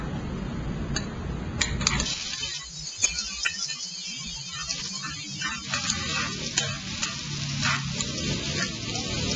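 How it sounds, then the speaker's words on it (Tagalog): Garlic sizzles steadily in hot oil in a pan, a dense, continuous crackle with occasional sharper pops and stirring clicks, close and fairly loud throughout with no talking. "After heating the pan and the oil, let's now put the garlic"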